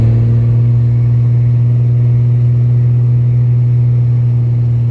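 A second-generation Cummins diesel in a dually pickup holds a loud, steady, droning engine note close by, with a slight clatter and no voices.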